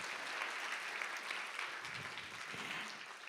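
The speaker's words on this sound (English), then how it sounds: "Another round of applause for Professor Welsh." Steady audience applause at a plenary lecture session, honoring a professor after his talk; dense, even clapping at a moderate distance, holding fairly constant throughout without speech.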